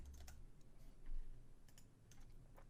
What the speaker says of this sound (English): Now I'm going to type in E and select the option E.